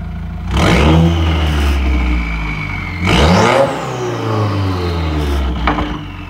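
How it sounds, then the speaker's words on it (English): A warmed-up 2015 Subaru WRX with a Perrin oil sump restrictor revs hard twice, each burst climbing sharply and falling back to a steady idle, loud and close with no talk. "Alright, she's mega warm now, so give her a rev."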